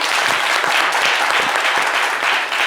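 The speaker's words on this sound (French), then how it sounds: "Applaudissez pour les baoulés." An audience applauds in a loud, dense burst of clapping that runs steadily throughout the short stretch, with no voices over it.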